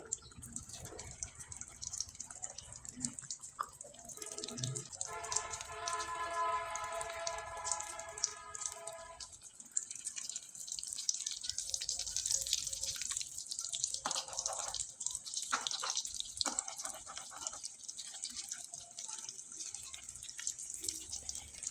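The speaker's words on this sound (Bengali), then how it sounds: "এখন আমি এগুলো ভেজে নিব" Pitha cakes fry in hot oil over high heat, a faint, continuous sizzling hiss with scattered spits and crackles that runs steadily throughout.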